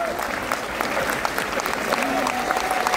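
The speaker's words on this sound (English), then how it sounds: "Give him a nice round of applause." Audience on a cruise ship entertainment show applauds steadily for the performer and a man invited on stage, a dense, continuous clatter of many hands with a few voices and cheers mixed in.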